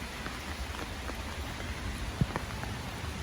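Rain falls steadily on a garden in early June, a dense, even hiss of drops with occasional louder splats close by and no voices.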